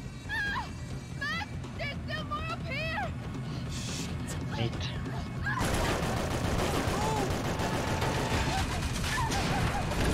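Max Payne 3 gameplay gunfire crackles in rapid bursts, intensifying into dense continuous shooting partway through, while people talk over the action.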